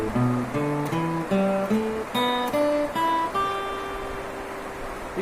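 A guitar plays a slow lick on open strings mixed with fretted notes, each note plucked cleanly and left to ring, stepping down and then up before a final sustained note, close and clear with no voice.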